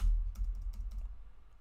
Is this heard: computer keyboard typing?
yes